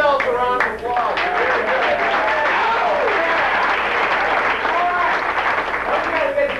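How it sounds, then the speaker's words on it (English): Live audience applause with whoops and cheers at an improv comedy show, dense steady clapping filling the room throughout, loud and close. "Give yourselves a round of applause."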